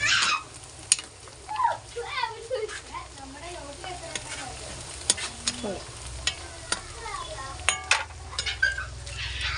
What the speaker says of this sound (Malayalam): അത് ചെറുതായിട്ട് നമുക്കൊന്ന് ഇളക്കി കൊടുക്കാം